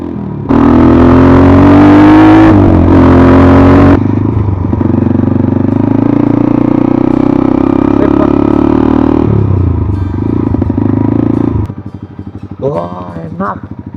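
A scooter-style motorcycle rumbles along nearby as a family rides, engine droning loudly with clattering and wind noise, pitch rising and falling with throttle before it settles; brief voices mingle with it near the end.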